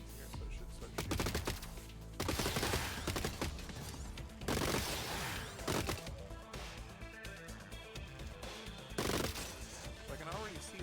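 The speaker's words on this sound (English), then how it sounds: "So it should start shooting." Robots exchanging gunfire in the Gladiabots strategy game, with bursts of rapid shots and impacts in irregular clusters over quiet background music.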